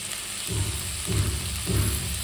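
Potatoes and yardlong beans fry in a pan with a close, steady hiss, while a low rumbling scrape rises and falls about every half second, as if the pan is being stirred.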